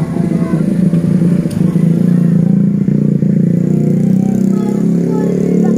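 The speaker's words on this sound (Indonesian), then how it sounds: "Awas, awas, motor." A motorcycle engine drones loud and close on a street, a steady, rough, rattling hum that holds throughout with no clear fade.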